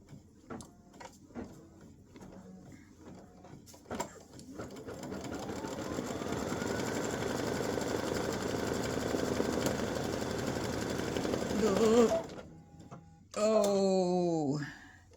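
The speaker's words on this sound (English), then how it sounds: "color stop number 2, and I'm leaving the same thread in, which is a light brown, is going to stitch the placement line for your fabric" An embroidery machine stitches a placement line for appliqué fabric in light brown thread, a long, steady mechanical rattle rising after some scattered clicks and handling, then stopping abruptly; a brief voice follows near the end.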